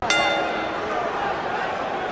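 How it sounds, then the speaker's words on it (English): A wrestling ring bell rung by the referee gives one sharp metallic clang that rings on and decays under steady arena crowd noise. "This dumbass referee rings the bell before Daivari and Jim Ross could exit the ring"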